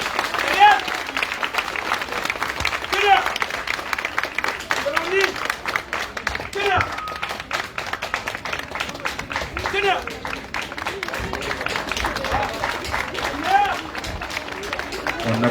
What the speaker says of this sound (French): On applaudit très très fort pour ces élèves-là.